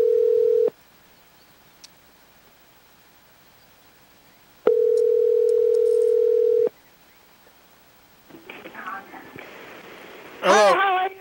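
Calling a grandmother on the phone produces two long, steady ringback tones separated by silence, followed by a crackly connection where a voice begins speaking.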